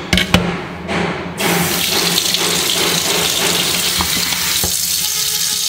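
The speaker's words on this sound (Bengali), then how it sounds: "দাঁড়াও আরও একটু জল ঢালি এর মধ্যে।" Water pours from a tap into a cooking pot on the stove, a sustained close rush and splash over a faint background sizzle, with a few knocks at the start.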